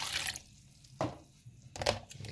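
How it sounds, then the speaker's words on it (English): Water is poured into a cooking pot for cornmeal porridge in a few short, splashy bursts separated by brief pauses, close and fairly faint. "get some little water in this now"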